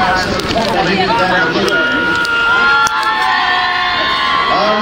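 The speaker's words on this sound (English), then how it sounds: "the ladies are cheering" Spectators at a jousting tournament at Cardiff Castle cheer and shout in a loud, continuous roar, with excited voices, whoops and children's cries layered over the ongoing din and voices talking throughout.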